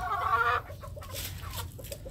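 Hens and pullets clucking while feeding, close by, in a short series of soft rhythmic clucks with a brief louder squawk at the start.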